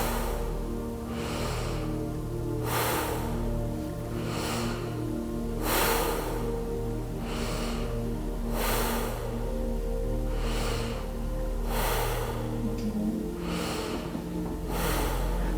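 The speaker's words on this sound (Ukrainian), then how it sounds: "Дихайте максимально глибоко." Deep, forceful breathing of a Wim Hof breathing exercise: about six slow, rhythmic breaths spaced a few seconds apart, close and clear over a steady low droning background, with no voices.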